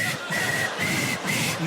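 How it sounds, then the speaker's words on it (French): A person whistles three or four sustained, even notes in a row with brief gaps between them, near and moderately loud over soft breathy noise. "Ah, non, je siffle."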